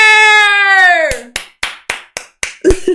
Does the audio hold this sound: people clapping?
yes